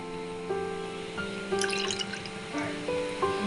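A cup of water poured into a heated pan with milk for steamed modak dough, gentle splashing and dripping with rising tonal ringing in short bursts, close and quiet.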